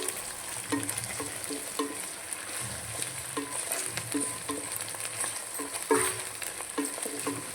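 Ginger garlic paste fries in a pan, giving a soft, continuous sizzle with irregular stirring clinks and scrapes of a utensil. It sounds close but fairly quiet, with no voices.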